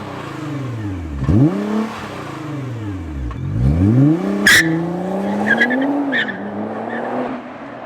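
A Nissan GT-R R35 pulling hard from a dead stop: close, loud engine revs rising and falling through gear changes, with a brief tire squeal and sharp mechanical clunk mid-run, no talking.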